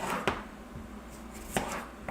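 A knife chops food on a cutting board in a home kitchen while chicken wings and fries are being cooked, giving three sparse, sharp chops over a steady background hum.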